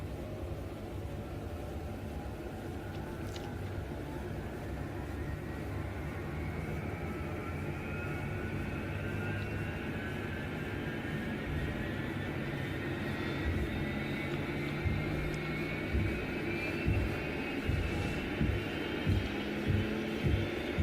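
The turbine engine of a UH-1 Huey helicopter in the DCS flight simulator starts up as a continuous low rumble, with a rising whine climbing steadily in pitch over twenty seconds and faint rhythmic thumps building near the end.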